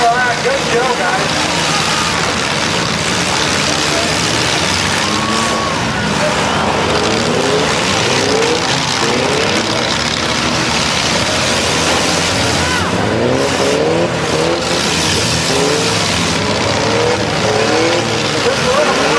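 Demolition derby cars rev and roar together in a continuous loud engine drone with occasional crashes, heard from a distance with a crowd and voices talking over it.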